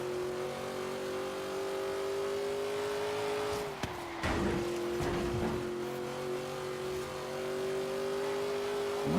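Racing car engine in the Forza Horizon 3 video game, a steady loud drone with a dip and shift around the middle as the engine note changes, continuous throughout with no talking.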